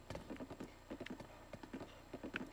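Fast, even clip-clop of a horse galloping in The Legend of Zelda: Breath of the Wild, a close, steady run of hoof strikes with no talking.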